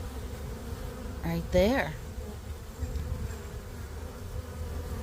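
Honey bees buzz softly and continuously at an open hive during a check-up, with a brief louder buzz as one passes close, under quiet talk.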